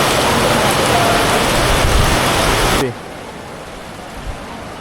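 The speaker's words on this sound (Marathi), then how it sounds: "जोरात पाऊस आला" Heavy rain pours down hard in a dense, steady hiss at Tirumala near Tirupati, then cuts off abruptly partway through, leaving a much quieter background.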